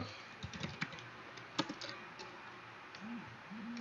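Typing on a computer keyboard while entering a switch port command during network switch configuration: scattered light key clicks at a moderate, uneven pace over a quiet background, close to the microphone.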